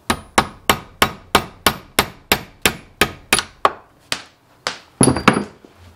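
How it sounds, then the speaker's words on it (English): Steel hammer taps a punch against a 17 mm hex key clamped in a vise, about fourteen sharp metallic strikes in steady rhythm, slowing and spacing out toward the end, then a final louder double knock as the piece gives way. "and you give it a few taps."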